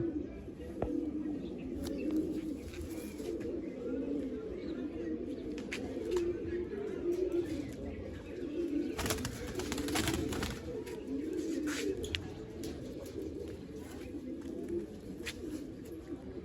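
Kalsira pigeons, among them a seven-year-old bird, coo in a continuous low, throbbing chorus at moderate distance, with occasional sharp clicks and rustles.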